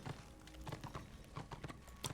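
Horse hooves clip-clopping in the video game Warhammer Online, a rhythmic series of fairly close hoof strikes under a faint, thin tone, with no clear neigh standing out.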